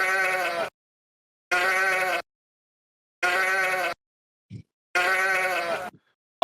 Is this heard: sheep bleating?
yes